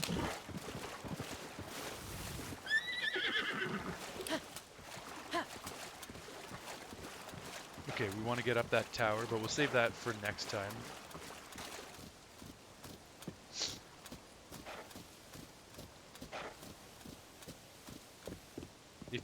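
A horse in the video game Zelda: Tears of the Kingdom clops along with rhythmic hoofbeats and gives a harmonic neigh partway through. The game sounds stay fairly quiet while a person talks over them.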